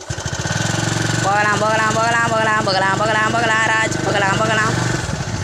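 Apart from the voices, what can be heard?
vehicle engine running and driving off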